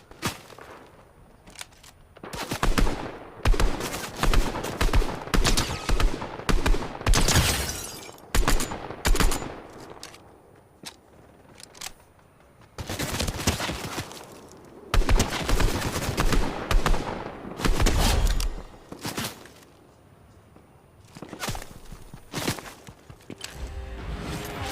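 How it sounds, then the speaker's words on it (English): Video game gunfire crackles in rapid automatic bursts and scattered single shots, loud and near, with lulls between volleys and no talk. "Now you got people shooting at you."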